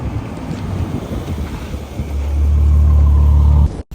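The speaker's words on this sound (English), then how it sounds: "Did you hear that shift?" A 2018 Ferrari GTC4 Lusso on the move, steady road and wind roar inside the car, then the engine note deepens and strengthens into a loud low drone after a gear shift, cutting off abruptly at the end.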